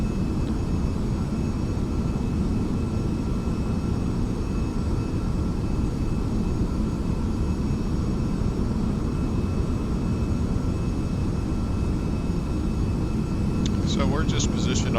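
Aircraft engine drone in Microsoft Flight Simulator FSX, flying the downwind leg before landing: a steady, loud, unbroken engine roar with a constant whine above it, alone throughout, with a short chirping blip near the end.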